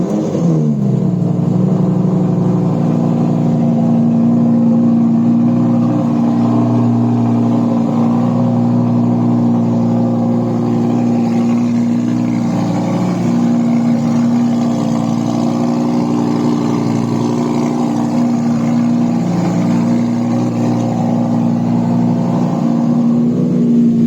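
An Audi R8 engine with a non-stock exhaust, running loud and close with a steady, deep, full-bodied drone and mild swells in pitch throughout, heard alone without talk.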